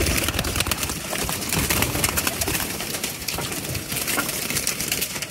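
Pigeons in a loft, Neelay and Golden flying breeds, give off soft repeated coos amid constant bird chatter and fluttering, close and busy throughout with no voices.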